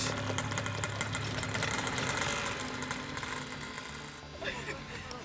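A small model aircraft engine runs with a buzzing, knocking idle, close by, as people talk nearby.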